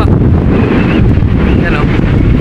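Loud, blustery wind buffets the microphone continuously, a heavy roaring rush with no letup.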